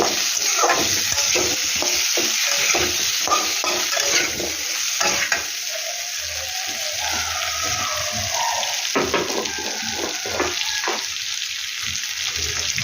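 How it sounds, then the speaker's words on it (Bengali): Pona fish jhol with turmeric stirred in a pan: a continuous close sizzle punctuated by frequent rhythmic spoon scrapes and knocks against the pan, briefly quieter midway before the stirring picks up again, with no voices. "হলুদ দিয়ে এটাকে একটু নেড়ে দেবো ভালো করে"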